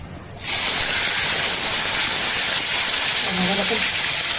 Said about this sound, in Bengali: এবারে মাছটা ভাজতে দেবো